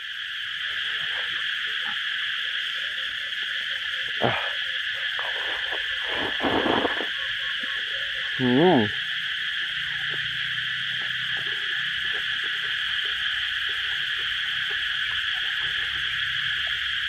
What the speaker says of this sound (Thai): โอ้เสียงจักรจันนี่ร้องดังดีจริงนะฮะ